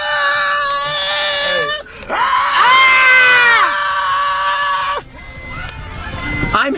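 Riders on an amusement ride in San Francisco let out loud, high, sustained screams in close succession, several voices overlapping, with a short break between bursts.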